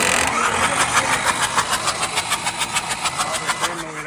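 A tractor engine starts and chugs loudly and steadily with a rhythmic pulsing beat, revving throughout while voices sound in the background.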